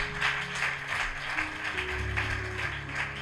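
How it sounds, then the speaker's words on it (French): A church congregation claps in praise, a steady rhythmic applause of many hands with a faint musical hum and sustained tones underneath, no speech. "Clap for the Lord Jesus."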